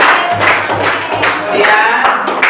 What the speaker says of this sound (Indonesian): Ya, ya, tepuk tangan.